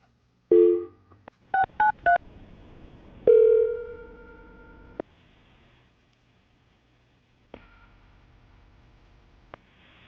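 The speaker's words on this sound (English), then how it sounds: "All right, Nick, I'm going to dial the phone number" A telephone number is dialed in touch tones: a dial tone, a quick run of DTMF beeps, then a longer tone and a couple of faint clicks, clear and close with no speech.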